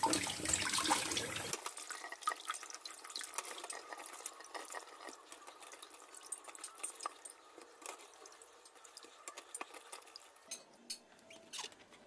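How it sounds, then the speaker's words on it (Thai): Eggs are rinsed one by one under a running tap in a kitchen, a steady hiss of flowing water with faint clicks and taps of the shells, louder at first, then a quieter, softer trickle. "ล้างไข่ทุกใบเลยล้างแล้วก็ ทำความสะอาดให้เรียบร้อย"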